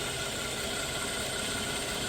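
A 2011 GMC Acadia engine idles roughly, a steady close mechanical hum with faint vibration throughout, no voices.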